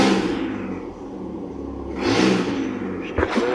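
A 2005 Ford Mustang engine with an exhaust leak revs loudly up close, a continuous rumbling drone that swells and rises partway through, with a clattering knock near the end.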